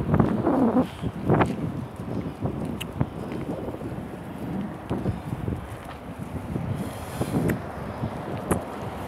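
Cool wind blows steadily across an outdoor microphone in Al Jalamid, Saudi Arabia, with a continuous gusty rumble and a buffeting roar that never lets up.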